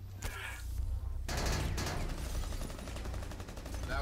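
Rapid bursts of gunfire from the shooter game Rainbow Six Siege crackle densely and loudly through the whole stretch, close-up shots fired in quick succession with brief gaps and no clear talking.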